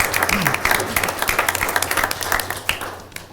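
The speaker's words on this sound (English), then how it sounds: "I think it deserves a round of applause for that kind of work." Applause at a school board of education meeting: a roomful of people clapping steadily at close range for a few seconds, with some murmuring voices mixed into the clapping.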